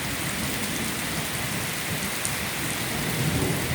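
Heavy village downpour with thunder and wind: a dense, constant hiss of rain pounding surfaces, with low thunder rumbling underneath throughout.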